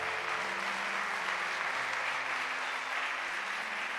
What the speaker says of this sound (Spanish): Dale un aplauso fuerte a Jesús.